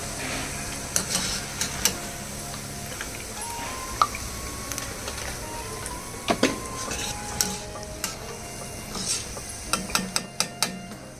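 Spinach pakoda fries in oil with a continuous soft sizzle, broken by repeated sharp clicks and scraping taps of a utensil stirring in the pan.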